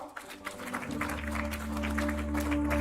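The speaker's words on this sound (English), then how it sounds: "Let's have a big round of applause for sir." An audience at a pipe-industry conference applauds a guest speaker, fairly quiet clapping that swells as low sustained music begins underneath and carries on to the end.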